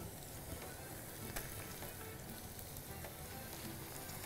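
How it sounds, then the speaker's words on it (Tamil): Prawns sizzle in a pan with onion and green chili, giving a continuous, even crackle that stays fairly quiet and unbroken, with no voices. "இறாவை போட்டு நல்லா மிக்ஸ் பண்ணிக்கிறோம்."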